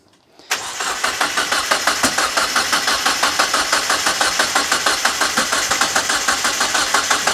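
A car engine cranks over and over with a bit of throttle, trying to start after a sudden onset, the starter's rapid rhythmic chugging loud and close and steady for several seconds without catching.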